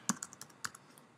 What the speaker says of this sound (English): you just type in Muffin